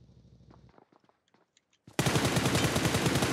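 Automatic gunfire from PUBG on Erangel: a few faint scattered pops, then from the midpoint a loud, sustained burst of rapid shots that continues to the end.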